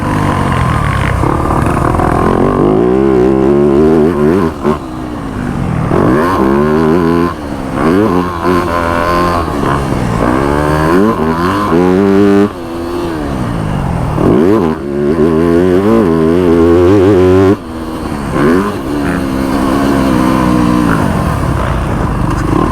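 A new Yamaha YZ250F dirt bike is ridden hard, its engine loud and close, revving and rising in repeated sweeps with sharp drops between gear changes and throttle chops throughout.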